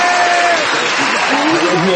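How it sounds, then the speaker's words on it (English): A studio audience at a WABC Radio anniversary celebration gives a dense round of applause, with a voice talking over the clapping. "another big round of applause on the way out"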